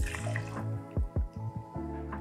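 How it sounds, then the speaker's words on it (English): 100 proof rye whiskey poured into a glass, a short trickling splash of liquid with a few gurgling glugs, close and fairly quiet, with no talking. "we're gonna start with 2 ounces or 60 mils of our 100 proof rye"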